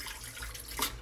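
Water rushes steadily into an LG VC3 washing machine as it fills, a continuous hissing flow with a brief louder surge near the end, close by and without talk.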